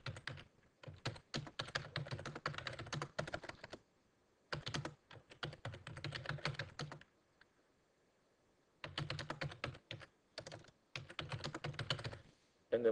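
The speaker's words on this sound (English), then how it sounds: "once you type in there, you just hit enter" Bursts of quick keystrokes on a computer keyboard alternate with silent gaps of a second or more, close and quiet, with no one speaking.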